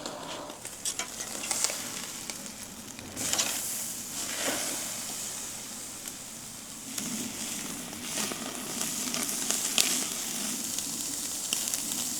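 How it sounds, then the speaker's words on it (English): Beef rib fat sizzles on a hot grill, a constant crackling hiss with sharper pops and spits rising and falling over several seconds. "You can already hear that sizzle as the fat hits the grill."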